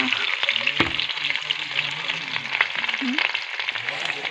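Sliced onions fry in hot oil with meat masala, red chilli and turmeric, giving a steady, close sizzle with occasional stirring scrapes and a sharp clink of the utensil against the pan.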